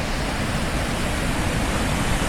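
Water pours over rock in a constant, full-bodied hiss and rumble of a waterfall, close and unbroken, with no other sounds or voices.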